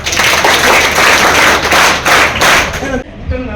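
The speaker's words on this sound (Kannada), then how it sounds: "ಜೋರ ಚಪ್ಪಾಳೆ" Students break into loud, dense applause, many hands clapping together in pulsing waves for about three seconds before it drops off abruptly.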